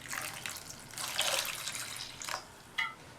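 Water poured into a pressure cooker over raw plantains with their tips and stems trimmed, a close splashing pour that swells in the middle, then a few trickles and a final small splash.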